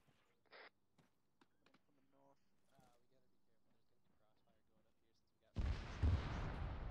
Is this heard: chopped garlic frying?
no